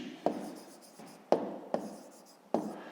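Pen writing on paper during a fifth-grade maths exercise, heard as four short scratchy strokes, each a quick tap followed by fading scribble, close and quiet with no talking.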